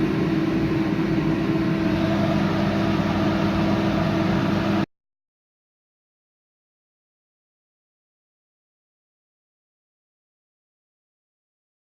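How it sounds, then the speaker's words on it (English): A microwave oven hums steadily and loudly for about five seconds while heating food with cheese and sauce, then cuts off abruptly into silence. "The microwave just pinged"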